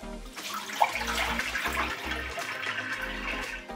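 Excess water drains and gurgles out of a coffee machine during descaling, a close, steady splashing rush with low rumbling pulses underneath.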